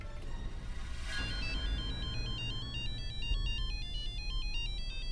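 An electronic phone ringtone plays a repeating melodic chime pattern, fairly close and steady, over a low background hum with no speech.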